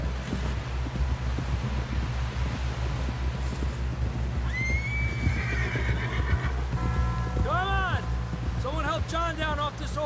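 A horse in the Red Dead Redemption 2 video game lets out a loud, wavering neigh followed by several shorter whinnies, over steady clip-clopping hooves, wind and game ambience.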